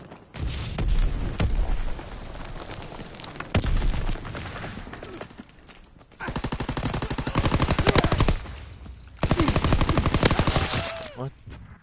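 Video game combat: a grenade blast followed by long bursts of rapid automatic gunfire, loud and sustained in several separate stretches, with brief gaps and a lone sharp shot between them.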